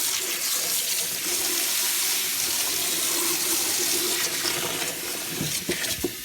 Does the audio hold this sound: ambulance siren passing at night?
no